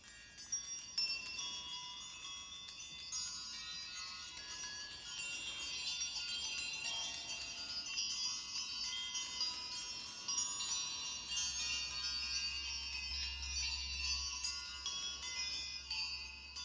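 Fairy bell chiming, a cluster of bright, high shimmering tinkles that ring on continuously and softly over a low hum.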